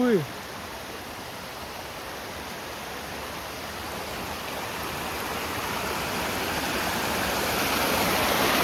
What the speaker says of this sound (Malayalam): അവിടുന്ന് ചാടിയ വെള്ളം ഒഴുകിക്കൊണ്ടിരിക്കുക കേട്ടോ